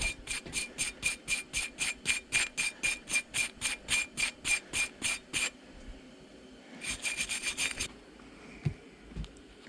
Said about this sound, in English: knock some of the surface rust off of this